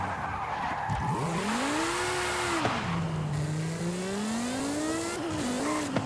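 Engine of a V8 hybrid twin-turbo car in Forza Horizon 5, a continuous loud drone that rises and falls as the revs change, with tire squeal and skidding mixed in, heard alone without speech.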